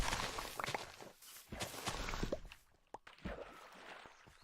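Video game footsteps crunch and patter in an uneven walking rhythm, fairly close, with brief pauses and soft scuffs between steps.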